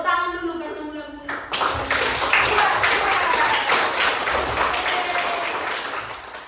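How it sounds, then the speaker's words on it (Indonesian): Schoolchildren in a classroom clap their hands together in a loud burst of rapid applause that carries on steadily for several seconds, after a short stretch of voices at the start. "Tepuk tangan dulu karena mulai."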